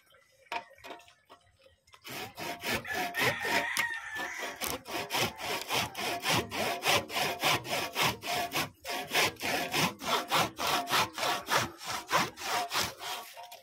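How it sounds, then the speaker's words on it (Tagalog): A hand saw cuts through a small wooden branch of a kamias tree for firewood outdoors, with loud, steady back-and-forth strokes repeating rhythmically and close up, after a brief quiet start. "Lagariin ko lang"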